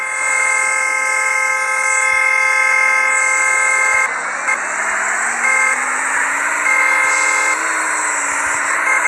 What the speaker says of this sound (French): Comment j'ai fait pour me bloquer sur le klaxon?